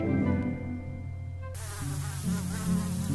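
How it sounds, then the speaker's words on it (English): Mosquitoes buzzing in an animated read-along of a children's picture book, a steady insect whine running continuously at moderate level, with a soft musical background shifting partway through. ""Good night," buzzed the mosquitoes, dancing among the stars."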